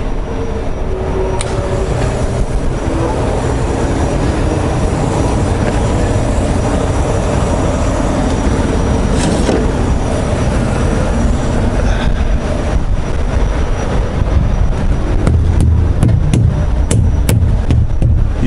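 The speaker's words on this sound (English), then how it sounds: "Could probably hear the wind." Strong wind blows across an open truck stop in East St. Louis, Illinois, a loud, steady rumbling roar with gusty buffeting that fills the whole stretch, joined near the end by a few sharp clicks.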